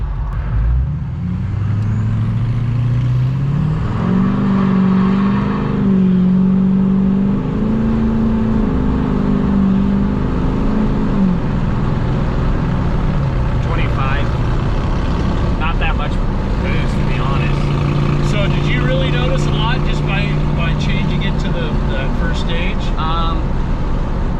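A diesel pickup truck tuned with an Edge CTS3 accelerates at full throttle, its engine note climbing through rising gear pulls with turbo whine and a shift, loud and close inside the cab, with people talking.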